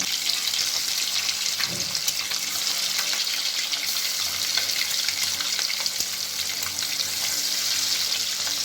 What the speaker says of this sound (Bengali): এবার আমি নুন হলুদ মাখানো ডিমগুলোকে ভেজে নিচ্ছি আস্তে আস্তে।